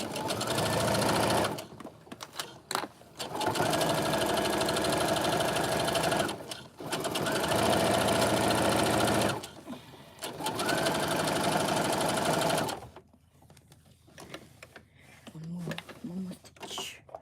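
A sewing machine stitches fabric in three long, loud, steady runs of rapid mechanical whirring, broken by short pauses with handling clicks, and falls quiet near the end.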